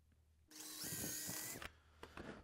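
A power drill bores into an apple box to widen an inner hole, a loud whining burst of about one second that starts abruptly and stops, followed by a few light knocks.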